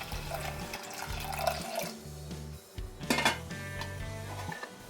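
Water is poured into a pressure cooker holding moong dal, splashing and gurgling unevenly, with a few metallic clinks of the pot and utensils close by.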